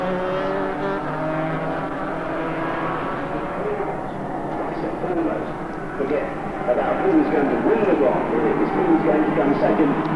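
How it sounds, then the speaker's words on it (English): Loud, continuous buzzing roar of two-cylinder, two-stroke, water-cooled rotary-valve superkart engines at the 1987 Silverstone Superkart Grand Prix final, shifting pitch as they pass, with a commentator talking over it. "Two-cylinder, two-stroke, water-cooled rotary valve engines, tremendous noise"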